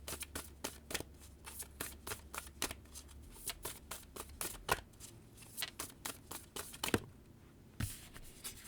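A deck of playing cards is shuffled repeatedly in quick riffling bursts, close up and fairly quiet, with crisp rapid flutters and snaps recurring throughout and no voices.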